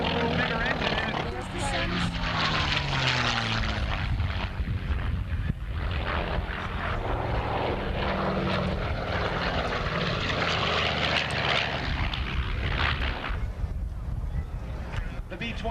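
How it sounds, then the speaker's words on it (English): Loud, steady radial-engine drone of a Navy B-25 Mitchell bomber passing at a 1996 Valiant Air Command airshow, with a public-address announcer talking over the continuous roar. "The B-25 Mitchell."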